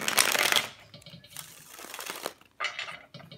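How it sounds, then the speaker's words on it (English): Tarot cards being shuffled in short bursts of riffling and shuffling, three quick rounds close by, with quiet pauses between. "I'm going to shuffle this one more time."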